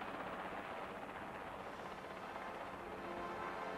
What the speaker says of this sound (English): But then, our approaching helicopter breaks the spell.